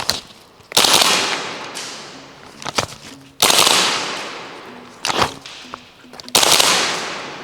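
A BB gun fires at a target during an outdoor optics test: several sharp, loud cracks spaced a second or two apart, each with a short fading tail and a faint ping after some.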